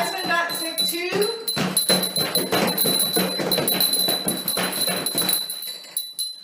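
A sick bell is rung again and again in a quick, uneven run of metallic clangs and bangs that sound close and fairly loud, with a voice heard briefly at the start.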